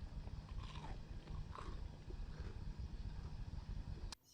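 Homemade potato chips fry in a batch of hot oil with a steady, dense crackling sizzle, close by and unbroken, until the sound cuts off abruptly near the end.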